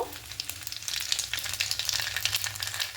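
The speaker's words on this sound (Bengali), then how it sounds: "এবার এখানে কালো জিরে ফোড়ন দেব" Nigella seeds crackle and sizzle in hot mustard-oil-style tempering after fish is lifted out, a dense, steady frying hiss with small popping bursts throughout, close and alone without any voices.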